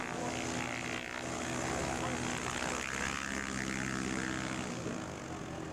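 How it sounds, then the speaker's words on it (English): A small, freshly repainted propeller plane in rural Alaska near the Arctic Circle drones steadily at close range, a loud continuous engine buzz throughout, with a voice talking faintly beneath. "Isn't that a pretty little airplane?"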